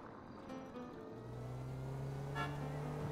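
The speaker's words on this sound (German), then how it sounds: "Hupe geht." Car horn sounding in the GTA V roleplay video game, a steady held honk that comes in after about a second and keeps going under the engine noise of a moving car.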